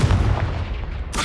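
Confringo fire spell cast in the Hogwarts Legacy video game: a single heavy explosive blast with a booming low rumble that decays over about a second, followed by a sharp crackle at the end.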